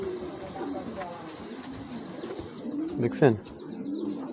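A male Super Mili (milky-feathered) racing Giribaz pigeon with stone-colored eyes coos softly in short, low calls, with a louder burst near the end, while someone talks close by throughout.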